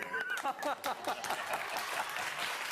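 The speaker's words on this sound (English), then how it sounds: "We have to give it a golf clap because it's nice." A brief patter of light golf clapping from a few people, with chuckles and murmured voices mixed in.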